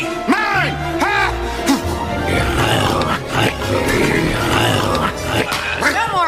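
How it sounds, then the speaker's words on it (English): A loud dog-like growl rumbles in a comedy film promo clip, with low growls and grunts layered over a music score, close and prominent, alongside short vocal bursts. "No more growling. Silence!"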